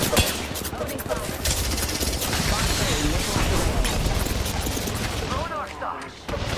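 Rapid gunfire in a firefight in the battle royale game Apex Legends, dense bursts of shots and impacts running continuously, with voices talking over the shooting.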